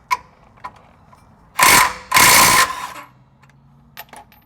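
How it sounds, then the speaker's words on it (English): A ratchet with a 17 mm socket clicks in two quick, loud bursts while loosening the lower shock mount bolt at the axle of a Lexus GX470 during a lift kit install, with faint clinks around it. "take your 17 millimeter socket and remove it from the axle down here"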